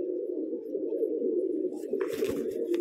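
Close, steady low cooing from domestic pigeons in Bijnor, Uttar Pradesh, a soft continuous murmur with brief rustling and clicks near the end.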